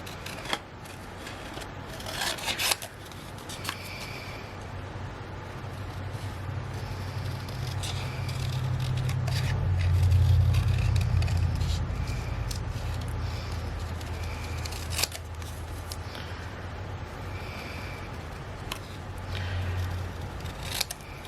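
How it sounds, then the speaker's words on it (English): Scissors snip steadily through a paper wolf card cut-out, a close, quiet run of crisp cuts and paper rustle over a low background hum, with no talking. "I think using scissors is pretty meditative."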